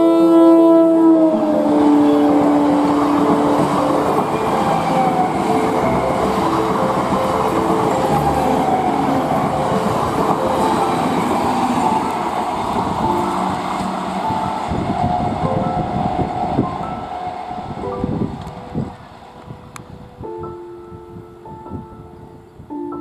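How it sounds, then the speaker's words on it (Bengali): An Indian Railways train running at over 60 km/h, a loud, continuous rumble and rattle of wheels on track close by, easing and thinning toward the end, with no voices. "ট্রেনের গতিটাও কিন্তু খুব ভালোই রয়েছে"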